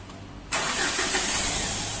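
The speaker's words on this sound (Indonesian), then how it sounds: "Sebentar kita coba starternya ya, kita lihat sama-sama" A used Mitsubishi Pajero diesel engine cranks briefly and catches, then settles into a loud, steady idle close by.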